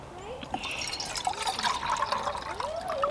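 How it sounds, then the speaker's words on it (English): Water poured and trickling into a pot or cup to make coffee at a backpacking campsite, a close, continuous liquid fill with small splashes and gurgles rising in pitch. "what I think I'll do is make a coffee"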